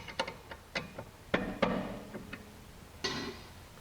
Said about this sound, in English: All you do is just break loose the two bolts.